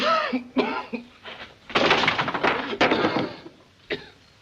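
A man coughs in a harsh fit, several hacking bursts in quick succession, close to the listener with brief pauses between.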